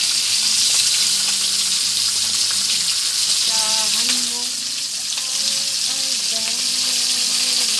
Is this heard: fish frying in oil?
yes